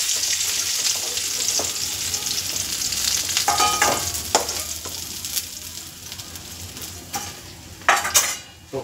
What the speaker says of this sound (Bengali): মাছ খুব লাল করে ভাজা হয়ে গেছে, দেখতেই পাচ্ছেন।